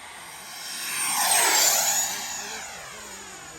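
An FMS 80mm Integral RC jet passing overhead, its turbine whine swelling to a loud peak and fading away with a clear pitch sweep as it rips by.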